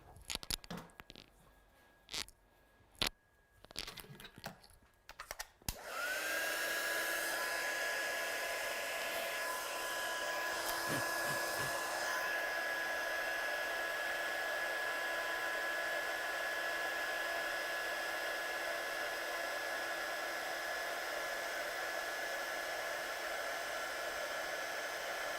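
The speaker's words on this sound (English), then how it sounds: "So let's just heat set this one." A heat tool blows onto stamped ink to set it, a loud steady whirring hiss with a high whine starting after several sharp clicks and bumps, running continuously close by.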